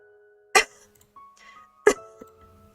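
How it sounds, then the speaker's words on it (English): Two short, sharp coughs in the video game Higurashi When They Cry: Tsumihoroboshi, spaced about a second apart, close and isolated against faint background tones. "Please cough if you can hear me."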